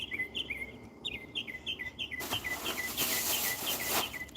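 Pet birds chirp with quick, repeated high tweets, faint at first and then joined by a louder, denser burst of chirping near the end, with no talking.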